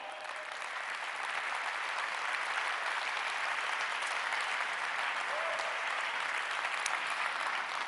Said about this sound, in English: I think they deserve an applause for that, right?